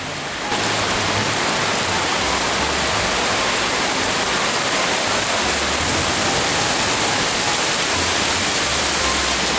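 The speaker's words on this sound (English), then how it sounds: "The water hose is up." A garden water hose runs outdoors near a barn, giving a steady, loud broadband hiss of spraying water that holds evenly throughout with no voices.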